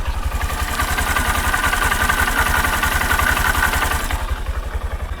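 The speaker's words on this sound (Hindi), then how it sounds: "और इंजन साउंड सुनिए।" A Honda SP 125 Sports Edition motorcycle engine idles steadily, a fast even low-pitched putter with a mechanical clatter on top, close and loud, with no voices.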